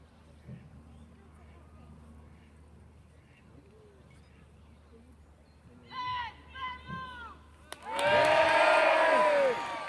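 A crowd cheers as the pin is pulled on a fireball trebuchet at Warwick Castle. Quiet murmuring and a few raised calls build to a sudden loud burst of cheering and whooping from many voices.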